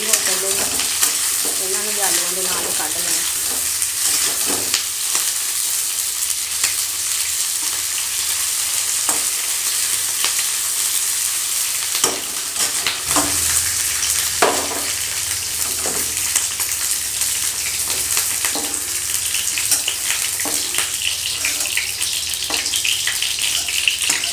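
Onions fry in oil in a pan, a loud, even sizzle that runs throughout, broken by occasional stirring scrapes, with no one speaking.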